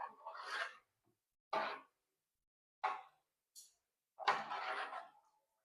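Basmati rice is stirred in a pot for chicken biryani. Four separate scraping and rubbing strokes sound close and fairly faint, with quiet gaps between them.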